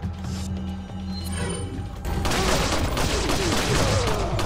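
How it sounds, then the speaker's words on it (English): Gunfire in Resident Evil 4, a burst of rapid loud shots that fires densely in the second half after quieter ambient game sound. "I decided to shoot that one up, and I wasted a few extra bullets there"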